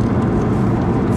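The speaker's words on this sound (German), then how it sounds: "Tunnel, Gang runterschalten." A Golf 7 R engine downshifting inside a tunnel, a dense, steady, loud roar with strong low rumble that fills the short moment without letup.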